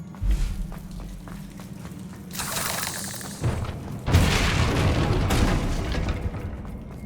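Bombarda and Confringo spell blasts in Hogwarts Legacy: several booming explosive bursts in quick succession, each loud and broad, with a rumbling tail between hits over steady game ambience.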